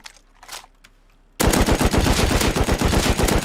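After a short quiet stretch with faint clicks, rapid automatic gunfire from the video game Rust erupts and keeps going loud and continuous until the end.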